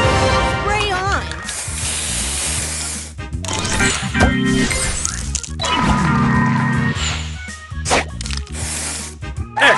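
Spray booster effect in a mobile puzzle game, a loud run of synthetic hisses, cracks and squishy bursts layered over bright electronic game music.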